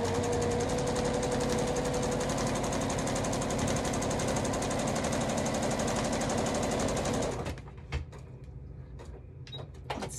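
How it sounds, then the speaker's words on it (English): Household sewing machine humming and rattling steadily in a fast rhythmic stitch, close and loud, then stopping abruptly, leaving quieter clicks and handling noises. "the hum of a sewing machine"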